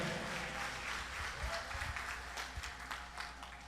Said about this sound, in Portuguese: Se você aprendeu com Jesus, glorifica Ele com as palmas e fique de pé.